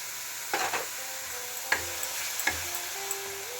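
Spices sizzle steadily in a pan as tomato puree goes in, a soft continuous frying hiss broken by a few sharp clatters and spoon knocks against the pan.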